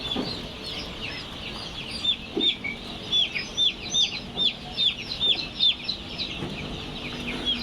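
Tiger chicken chicks, fifteen to sixteen days old, in a brooder peep in a steady stream of high, thin chirps that come in repeated bursts, close and fairly loud over a soft background hum.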